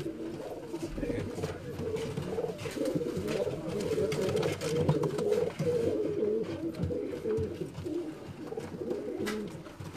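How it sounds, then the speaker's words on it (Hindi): A Joker breed pigeon from Gujarat coos from its cage, a continuous run of deep, rolling, throaty calls close by, overlapping with other birds, while someone speaks quietly beneath. "ये कबूतर दिखाना है, जोकर ब्रीड है"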